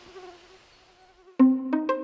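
Mosquitoes buzz over a marsh, a thin whining hum at first, then a sudden louder close buzz with a couple of sharper surges.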